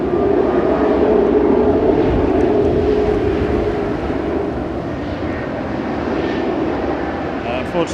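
A Copenhagen Air Taxi aircraft at Manchester Airport makes a loud, steady engine roar with a droning tone. The sound stays close and sustained throughout.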